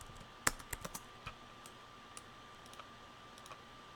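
Computer keyboard typing in short clustered bursts of sharp key clicks near the start, then sparse isolated taps, fairly faint against a quiet steady hum.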